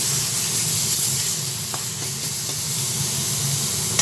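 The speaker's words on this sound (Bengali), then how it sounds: "পেঁয়াজটা ভাজা হতে হতে এর মধ্যে কিছুটা আদা দিয়ে দিলাম আদাটা একসঙ্গে দিয়ে ভেজে নিচ্ছি" Onion paste and ginger fry in a pan, giving a steady close hiss and sizzle that runs unbroken for the whole stretch, with a couple of faint clicks partway through and no voices.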